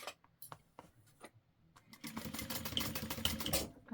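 A sewing machine stitches a clear plastic backpack: a few quiet taps and clicks at first, then a steady, louder run of rapid mechanical stitching that fills the rest of the moment.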